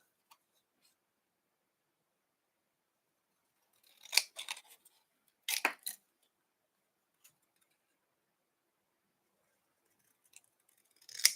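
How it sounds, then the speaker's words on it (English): A few quiet, crisp snips of large scissors cutting paper, in small clusters separated by long silent gaps. "I'm going to use a big pair of scissors to just chop this up."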